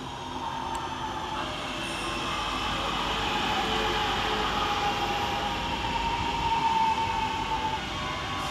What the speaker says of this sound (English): And here comes our train running 22 minutes